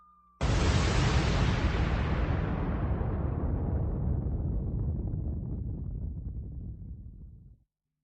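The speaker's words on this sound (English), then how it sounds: "And that deserves a bomb drop." Bomb drop explosion sound effect: a sudden loud blast that rolls into a long rumbling roar and fades over about seven seconds, heard alone.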